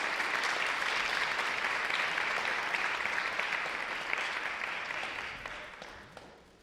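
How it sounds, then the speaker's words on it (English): An audience at a women's foundation awards event claps in sustained, dense applause that holds steady and then gradually thins out toward the end. "I'm going to ask for another round of applause to the team"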